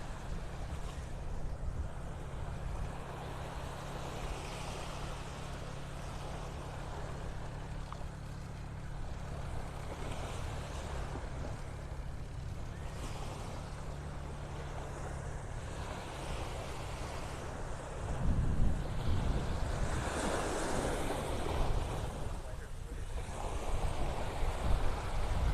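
Small ocean waves wash onto a beach in North Naples, Florida, a steady broadband surf hiss with wind buffeting the microphone, steady low rumble early, then a louder nearby wave surge in the last third.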